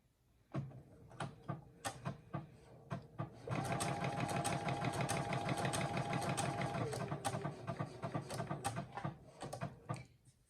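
A few scattered clicks, then a Brother SE1900 sewing machine runs steadily sewing sideways for several seconds, a close rhythmic stitching whir that slows and fades out.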